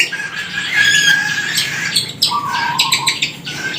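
A young cockatiel in flight training squawks and chirps loudly and up close as it flies to its owner for food, giving a series of shrill, sharp calls.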